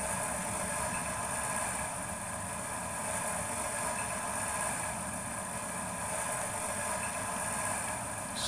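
A model train engine idles steadily with a constant, even hum and faint mechanical drone, alone and unbroken throughout, with no voices over it.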